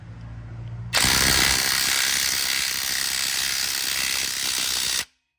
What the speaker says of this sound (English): Got my impact on it, fits in there. We're gonna send it home.